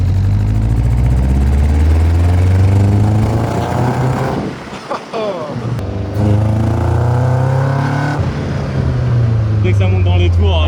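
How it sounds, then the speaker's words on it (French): Caterham Seven (Lotus Seven) engine revving on an open road, loud and close, its note climbing through the revs, briefly dropping off mid-clip, then surging again alongside rushing wind. "Dès que ça monte dans les tours, Ah, ça monte de fou."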